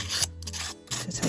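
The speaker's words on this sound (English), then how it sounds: "So I'm just going to get my cheapo sanding disc and just give that a little stroke along the side" A rough abrasive rasping, several short back-and-forth strokes of a cheap sanding disc scraping along the edge of a junk journal page, close and distinct.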